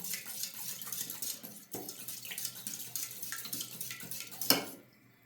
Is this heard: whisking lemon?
yes